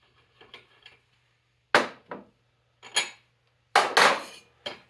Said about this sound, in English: So that's the sleeve getting pulled out of the block.